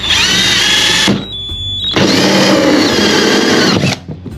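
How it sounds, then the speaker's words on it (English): A loud power drill with a small 1-inch hole cutter whines in two long bursts with a brief pause between, biting through a lid at close range. "we're gonna take our drill with a little bitty hole cutter"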